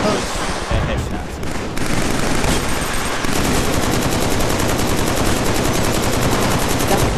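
Rapid automatic gunfire from a weapon in the video game Killzone 3 rattles on continuously and loudly, preceded by a brief burst and scattered game effects.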